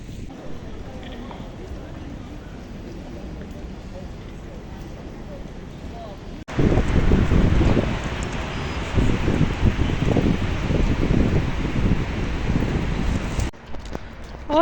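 Rough wind on a beach buffets the microphone, growing suddenly much louder and gustier partway through, with a constant rushing roar.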